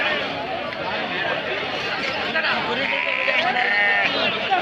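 Sheep and rams bleat repeatedly at a busy livestock market in Akki Rampura, Tumakuru district, close and loud over a steady crowd babble with voices talking throughout.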